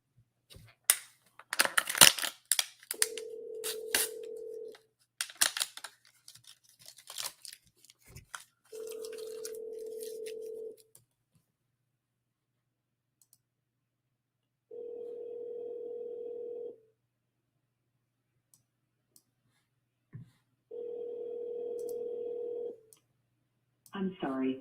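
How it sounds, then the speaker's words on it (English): A phone call is dialed with clicking and tapping, then four evenly spaced ringback tones come through a handset, each about two seconds long with silent gaps between. "Let's see if they pick up the phone."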